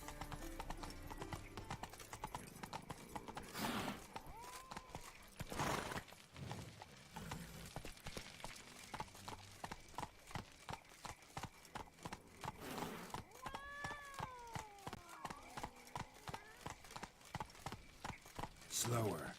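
Roach the horse trots with rhythmic clip-clop hooves in The Witcher 3, steady and fairly close, with brief whinnies and bursts of other game sounds, and voices talking intermittently.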